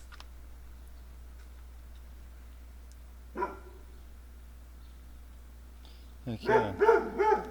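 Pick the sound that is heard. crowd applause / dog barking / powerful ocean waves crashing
dog barking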